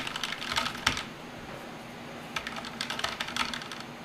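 Rapid bursts of clicking key presses on a Razer Nostromo gaming keypad, tapped quickly in two clusters with a short pause between, close and crisp over a low hum.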